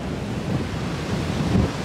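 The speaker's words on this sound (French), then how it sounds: "le vent il est ici, je suis surtout près de l'eau, violent." Strong, gusting wind by the water roars across the microphone, a loud continuous rumble mixed with the wash of waves, with no voices.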